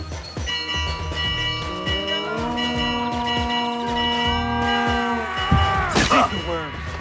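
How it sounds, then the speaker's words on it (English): Alarm bell ringing in the Assassin's Creed Mirage video game, sustained metallic tones layered over game music, shouting voices and combat effects, with a louder burst near the end. "I'll ring the bell!"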